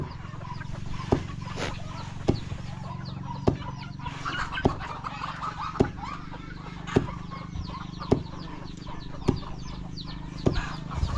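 Village chickens cluck and call close by against a quiet rural background, with sharp, regularly spaced clicks repeating throughout.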